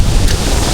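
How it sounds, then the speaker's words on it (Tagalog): Strong wind buffets the microphone over rough, crashing sea waves during a typhoon, a steady loud broadband roar with no voices. "Lalaki pa lang alon guys sa labas."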